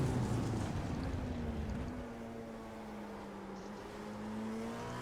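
An LMP2 prototype race car in a racing video game drones through a turn at the Red Bull Ring, a steady engine tone with a dip and gradual rise in pitch as it eases off and pulls away.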